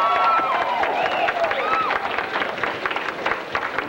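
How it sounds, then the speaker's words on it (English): Audience applause for the winner of a karaoke contest on a stage show, dense clapping mixed with cheers and whistles, loud at first and easing slightly toward the end. "Let's give him a round of applause."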